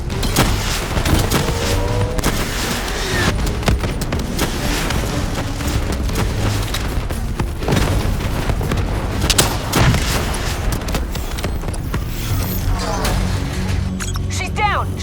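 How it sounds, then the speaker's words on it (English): Javelin missile explosions and heavy gunfire in the shooter game Call of Duty: Black Ops III, a long stretch of loud booms and crackling fusillades, with voices talking intermittently throughout. "Javelin missiles incoming!"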